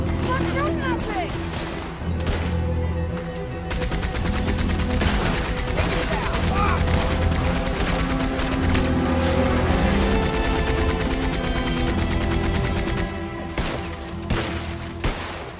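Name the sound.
gunfire in video game Red Dead Redemption 2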